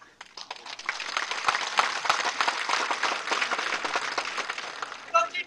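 Steady applause rings out from a crowd at an Uddhav Thackeray political rally in Maharashtra, dense rapid clapping building and holding for several seconds before trailing off.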